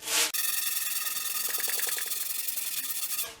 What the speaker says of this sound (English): Now that the entire groove is full of glue, you just sand it.